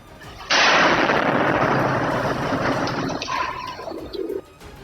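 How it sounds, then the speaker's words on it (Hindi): A bomb dropped in an air strike explodes on a street among parked vehicles, a sudden loud broadband blast followed by several seconds of roaring rumble and debris that fades out. "पूरा इलाका तेज धमाके की आवाज से गूंज उठा।"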